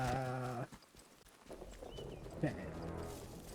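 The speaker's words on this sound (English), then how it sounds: "Wasn't expecting an exploding sheep to reveal my position." Sheep bleating in the Atomfall video game, a wavering harmonic bleat up front that cuts off abruptly, then quieter clattering and game noise with a second faint bleat later.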